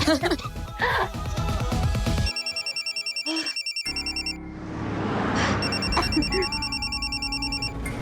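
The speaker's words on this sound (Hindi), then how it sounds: "किसका फोन है?" A phone ringtone plays in repeated electronic bursts, loud and close, with a voice briefly heard before it starts.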